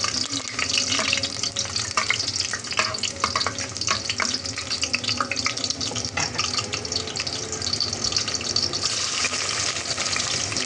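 Garlic frying in a pan makes a steady, close hiss and crackle that lasts the whole time, with occasional stirring clatter and no speech.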